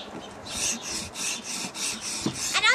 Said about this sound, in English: Bring the stone to the blade and move along, resetting the bevels.